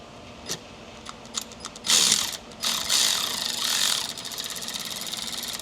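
An electric ratchet works a fastener on a Cadillac SRX 3.6 engine, first with a few short clicking bursts, then longer whirring runs of rapid pawl clatter, close and fairly loud, with no talking.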